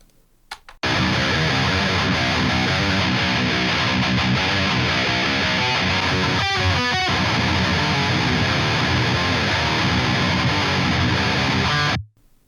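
A heavily distorted electric guitar through a 4x12 tread plate cabinet simulation with an off-axis 57 mic plays a loud, dense, saturated riff for about eleven seconds, then cuts off abruptly.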